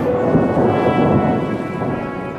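Steady heavy rain pours down while a deep roll of thunder rumbles underneath, loud and continuous throughout.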